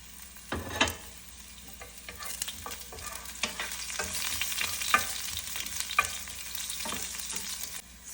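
Garlic and ginger sautéing over medium heat in a pan, a steady soft sizzle broken by repeated scraping clinks of a utensil stirring, close and moderately quiet.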